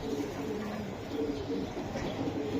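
Racing pigeons coo in low, repeated phrases, fairly close and steady, over a constant bed of background noise.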